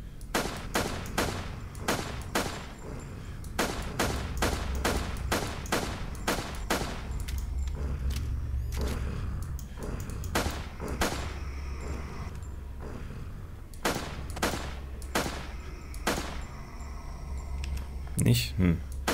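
Sharp, spaced pistol shots in the zombie video game Zombiewarz, repeating in irregular bursts with clicks between them while someone talks over the action.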